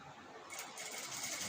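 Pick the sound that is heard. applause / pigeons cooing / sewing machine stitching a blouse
sewing machine stitching a blouse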